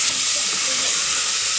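Garlic and onions frying in a pot as the base for chicken soup, a steady, loud, close sizzle and hiss with no break.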